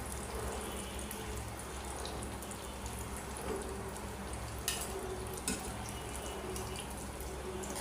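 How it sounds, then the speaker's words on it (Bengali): Samosas deep fry in hot oil with a soft, continuous bubbling sizzle, fairly faint and steady, broken by a couple of light clinks of a utensil. "আমি একটু মোটা মোটা করে ভাজে নিলাম।"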